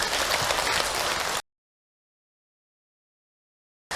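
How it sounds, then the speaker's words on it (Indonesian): Brief burst of clapping from a women's congregation at an Islamic religious talk, moderately loud for about a second and a half before cutting to silence. "tepuk tangan ibu untuk Hilman"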